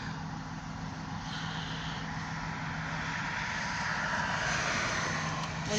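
Locomotive engines at the head of a grain hopper train rumble past in Oil City, Pennsylvania, a loud, continuous low drone with a broad mechanical roar that holds steady and swells slightly as they near.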